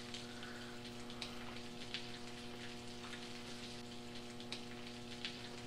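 Nighttime rain in the video game Deadly Premonition falls as a soft, steady patter with scattered drip ticks over a low constant hum, faint and continuous without any talk.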